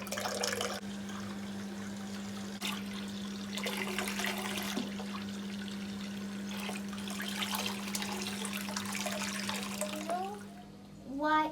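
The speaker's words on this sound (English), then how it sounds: "now we get some soap and we wash him." Water running from a tap while a toy horse is washed with soap, a steady close stream with a constant hum underneath and brief handling noises near the end.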